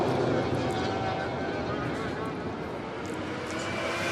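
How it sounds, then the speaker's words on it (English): A Vulcan jet bomber passes at the Goodwood Festival of Speed, a broad sustained engine roar filling the air, steady and fairly loud throughout with commentary voices over it. "But where is Vulcan? I can hear the aircraft."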